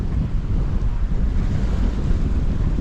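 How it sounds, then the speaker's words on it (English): Strong wind buffeting the microphone over a constant roar of rough open sea and breaking waves aboard a sailboat, loud and steady throughout. "See how big the waves are."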